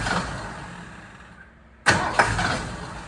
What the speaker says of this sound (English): Try to crank it, Drake.